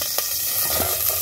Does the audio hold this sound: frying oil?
yes